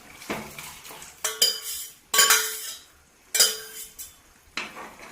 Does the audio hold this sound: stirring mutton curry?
yes